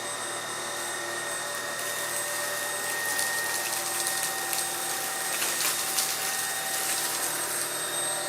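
A Jimmy JV65 stick vacuum cleaner with its scraping brush head runs across a parquet floor, giving a steady, loud motor whine with airy suction hiss and slight fluctuations as the head moves.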